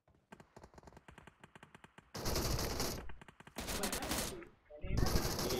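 Gunfire in PUBG begins as a quick string of sharp single shots and turns into loud sustained automatic bursts with brief gaps between them.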